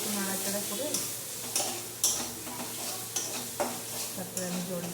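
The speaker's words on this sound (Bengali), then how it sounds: "এবার আমি চিংড়িটার মধ্যে দিয়ে দিলাম, চিংড়িটা দিয়ে একটু নাড়াচাড়া করে" Prawns stirred into cooked spice paste in a hot pan, a steady sizzle broken by several sharp scraping spatula strokes, close and moderately loud, with faint speech in the background.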